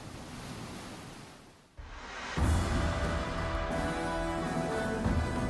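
Ocean waves around a huge crane vessel at sea, a continuous heavy wash and surf roar with wind buffeting the microphone, dipping briefly and then surging back louder.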